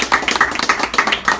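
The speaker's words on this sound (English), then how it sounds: "Let's give a round of applause." A small group claps for a child's birthday, with quick uneven hand claps and a few light cheers close by for a brief burst.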